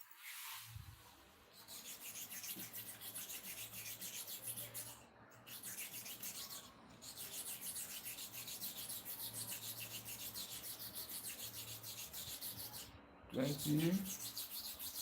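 Hair clipper blades are ground on an oiled sharpening stone in a continuous, close rubbing rasp with a few brief pauses, and a short louder scrape near the end.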